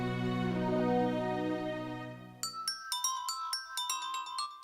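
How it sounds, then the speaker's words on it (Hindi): A bright electronic ringtone chimes in a rapid repeating pattern after a sustained musical tone fades, fairly close and clear, with no one talking. "रिंग बज रही है"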